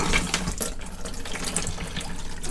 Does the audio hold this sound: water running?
yes